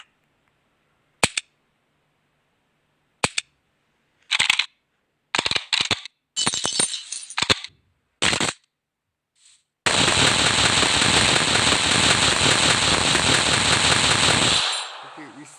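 Several sharp shotgun shots in a Minecraft weapons mod, fired one at a time with gaps between them, followed by a long, loud burst of dense, continuous noise.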